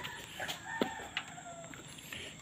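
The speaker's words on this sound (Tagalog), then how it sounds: "Ito mga pato na ito," Ducks kept beneath a house in the Philippines give short, scattered calls, moderately near and fairly faint, with no speech.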